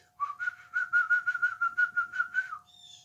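A person whistles in imitation of a bird, producing a quick run of about a dozen warbling pulses on a steady pitch that ends with a brief upward flick. It is close and clear, with no talking.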